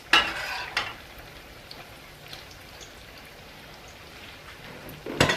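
Patty pan squash fritters fry in a pan, a soft steady sizzle like light rain, with sharper clatter at the start and again at the end as they are flipped.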